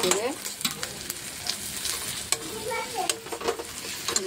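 Turmeric, coriander, chili and cumin powders stirred into a hot frying pan for a potato and mushroom dish, with steady close scraping and a soft sizzle underneath, a few sharper clicks of the spoon against the pan.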